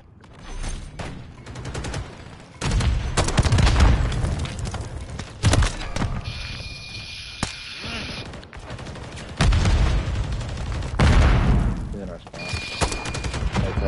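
Shotgun blasts and other gunfire crack in loud bursts during a video game firefight, mixed with thumps and a voice over the action.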